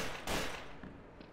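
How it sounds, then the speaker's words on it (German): Gunshots in the game Trouble in Terrorist Town: one sharp, loud blast followed by a decaying rumble and a few fainter pops, heard without talk. "es fallen Schüsse."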